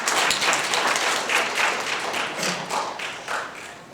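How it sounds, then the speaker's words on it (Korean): A crowd at a Korean redevelopment briefing session applauds warmly, a dense, steady wash of clapping that continues throughout with slight swells. "큰 박수로 맞이해 주시기 바랍니다."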